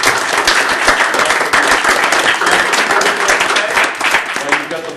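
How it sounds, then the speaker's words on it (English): Loud, dense applause fills a city council meeting in Newark, a crowd clapping steadily and close for the whole stretch, with faint voices mixed underneath. "Everybody, please give Renee a round of applause for all of you."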